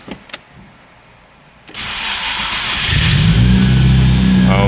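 A couple of clicks, then a starter whirs and a car engine catches, building into a steady, close idle.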